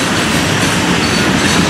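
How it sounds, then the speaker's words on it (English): A big freight train of gondolas and hopper cars rolls past close by, its loud, steady rumble and wheel clatter filling the whole stretch with no voices. "Gondolas with now the hopper. It's a big train."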